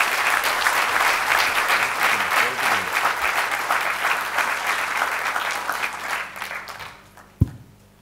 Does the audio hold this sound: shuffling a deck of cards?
no